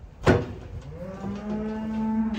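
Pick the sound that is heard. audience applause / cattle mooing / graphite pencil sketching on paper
cattle mooing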